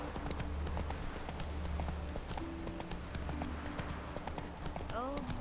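Horse hooves clip-clopping at a gallop in the video game The Witcher 3, a steady rhythmic pounding under dense game music and ambience, with a brief whinny-like call near the end.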